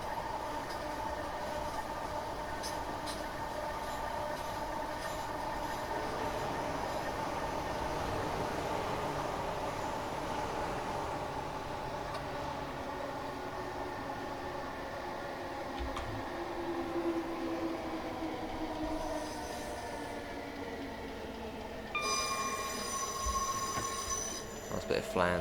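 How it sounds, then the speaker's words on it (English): A Class 455 electric train in Train Simulator Classic rolls toward Waterloo on the South West Main Line, a steady rumble of wheels and motors with high tonal squeals building near the end. "Nice bit of flange coming into here as well."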